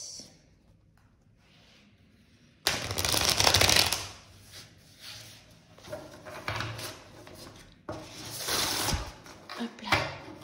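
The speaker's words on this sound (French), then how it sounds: "on va bien mélanger les cartes avant de commencer" Tarot cards are shuffled by hand at close range in several bursts of riffling, flapping and sliding, loud and crisp, separated by softer handling and brief quiet pauses.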